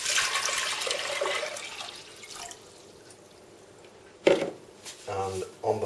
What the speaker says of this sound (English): So we'll add the water.